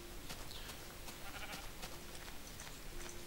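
A Minecraft sheep bleats in short, faint cries over a steady low hum, with a few brief blips scattered across the stretch.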